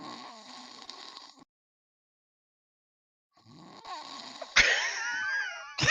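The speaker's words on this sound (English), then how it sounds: "Let the snoring go in." Snoring from a person, heard as a raspy, wheezy breath, then a gap of near silence, then a louder, harsher snore that ends in a sudden rough burst.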